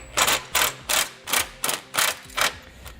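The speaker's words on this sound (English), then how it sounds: "you're going to want to come back with a 3/4 inch socket." Ratchet wrench with a 3/4 inch socket snugging handle nuts on a Roadmaster base plate kit for a 2018 Jeep Grand Cherokee: six evenly spaced bursts of rapid pawl clicking, close and crisp, with no talk.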